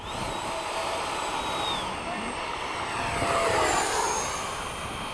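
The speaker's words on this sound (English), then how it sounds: "I'm going to do a fast pass over the runway" Large RC model jet, an 80mm E-flite F/A-18D or 90mm Freewing F-15, making a fast low pass over a runway at a flying field, its steady turbine roar building and peaking partway through, with people talking nearby.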